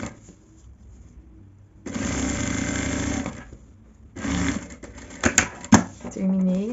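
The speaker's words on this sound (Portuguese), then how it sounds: "Vou passar uma costura reta." An industrial sewing machine stitches a straight seam along a zipper in two rapid mechanical bursts, a few seconds each, with quiet pauses, clicks and a brief whirring tone near the end.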